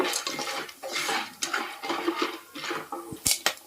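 Corn kernels being stirred in hot oil in a pot, with repeated scraping and rattling strokes in an uneven rhythm and a couple of sharp metallic knocks near the end.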